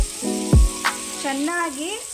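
Chopped onions sizzle steadily in hot oil for a Mandya-style mutton tripe (boti) curry, a close continuous frying hiss with a brief clatter partway through.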